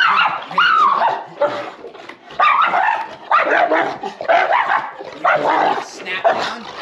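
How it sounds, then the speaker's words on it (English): A protection dog barks and yips in repeated loud bursts close by, with whimpering between them, while a person is also heard. "Sentry dog, this is a protection dog."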